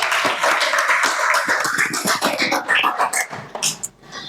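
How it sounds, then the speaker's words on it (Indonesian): Schoolchildren clapping their hands in a classroom, an uneven burst of many close claps that breaks into scattered individual claps and trails off near the end. "Oke, beri tepuk tangan."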